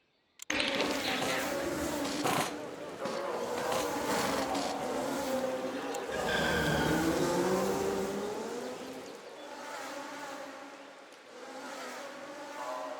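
Race car engine on a hot lap in the racing game Golden Lap, a faint steady drone with rising and falling pitch as the car laps, heard alone with no voices.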